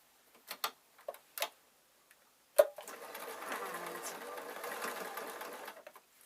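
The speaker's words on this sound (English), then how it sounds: "I'm going to sew sharp angles" A sewing machine stitches fabric for a small tooth pillow. A few isolated clicks and short bursts come first, then a steady whirring run of stitching lasts about three seconds before stopping, all quiet and close.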